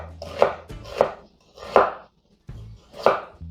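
A kitchen knife chops through an onion from pole to pole on a cutting board, four distinct sharp cuts landing at a steady, unhurried pace with brief pauses between strokes, close and clear with no talking.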